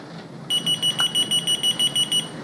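A UHF key finder receiver gives a rapid series of high, thin electronic beeps, about a dozen evenly spaced, fairly close and moderately loud, with no talking.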